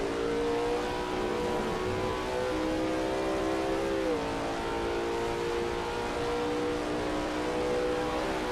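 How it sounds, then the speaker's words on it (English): A Lola T70 MkII Spyder race car's engine drones steadily at Spa in a racing video game, holding a sustained tone with a brief pitch dip partway through as it shifts or lifts, loud and continuous with no voices. "That ASRL T70 MkII Spyder looks good driving through campus."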